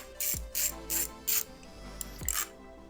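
A hand ratchet works a 10mm bolt loose, giving several short bursts of close, raspy clicking separated by brief pauses.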